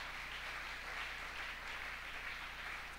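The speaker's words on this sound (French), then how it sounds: "Oui, là on applaudissait l'orème" A church congregation applauds during a French-language service, producing a steady, faint wash of clapping over a low electrical hum, with no break in the sound.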